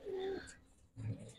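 A grizzle racer pigeon, one of a pair from a racing loft, gives low, soft cooing in two short bursts separated by a brief pause.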